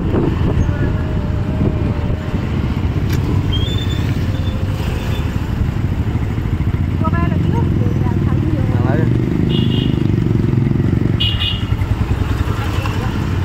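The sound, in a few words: motorcycle riding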